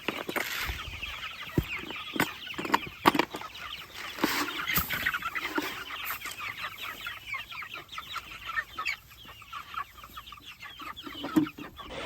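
A flock of meat chickens on pasture clucks and murmurs steadily throughout, busy and close by, with scattered sharper squawks and rustling, and no one talking.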